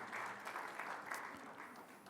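A congregation claps during a Sunday worship service at a church, giving a soft, distant and steady wash of applause that stays quiet throughout.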